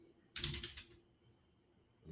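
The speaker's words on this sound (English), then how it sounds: "make sure my keyboard's working" A burst of computer keyboard typing, a quick run of close, crisp key clicks lasting about half a second and then stopping, with faint room hum around it.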